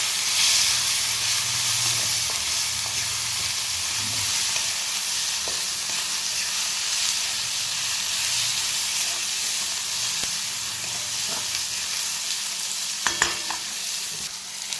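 Onion and tomato masala with turmeric and chili powder sizzles loudly in a pan while being stirred and sautéed for egg bhurji, a steady close frying hiss with occasional scraping clicks.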